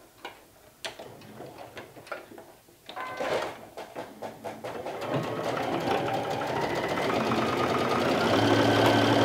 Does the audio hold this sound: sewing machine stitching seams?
yes